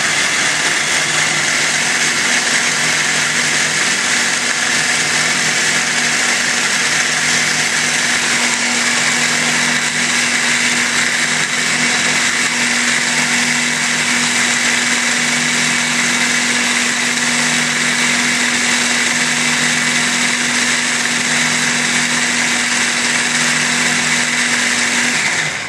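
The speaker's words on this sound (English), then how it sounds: "we've added it to our little blender here" A blender blending butter chicken sauce runs continuously at high speed, a loud steady motor whine with a faint hum underneath, lasting the whole time with no talk.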